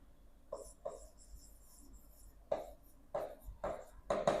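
Handwriting an equation during a maths problem solution, with scattered short bursts of pen or chalk strokes separated by pauses, close and fairly quiet, with no talking.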